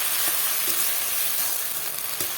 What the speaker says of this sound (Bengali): এই ভালো করে মশলাটাকে আর একটু কষিয়ে নেবো